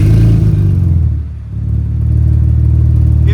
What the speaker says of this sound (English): Flowmaster Super 50,